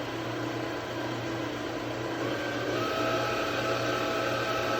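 An electric mixer whirring steadily at medium speed while beating brownie batter, a constant motor hum with no change in pitch or breaks.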